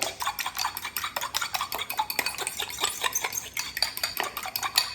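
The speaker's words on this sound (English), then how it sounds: "We're gonna whisk these together." Eggs being whisked in a bowl for pasta carbonara: a quick, steady run of close metallic clicks and taps against the dish, with no voices.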